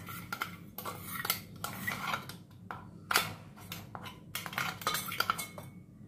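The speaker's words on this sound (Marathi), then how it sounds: "आता हे आपण व्यवस्थित मिक्स करू." Peanut powder stirred into a fasting-style peanut amti in a pan, with a spoon scraping and clinking against the metal in repeated close strokes over a low steady hum.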